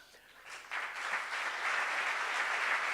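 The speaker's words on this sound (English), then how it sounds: "please give them a really big warm round of applause" Audience applause for sponsors at a Startup Grind anniversary party in Barcelona, rising after a quiet start into steady, dense clapping from a crowd that continues to the end.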